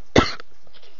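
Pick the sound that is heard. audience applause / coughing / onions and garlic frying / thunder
coughing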